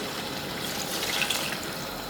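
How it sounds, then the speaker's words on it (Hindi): A cup of water poured into a pot of Sindhi biryani with potatoes and chicken, a steady close splashing pour lasting a couple of seconds, no talking. "अब इसके अंदर हम 1 प्याली पानी डालने लगे हैं"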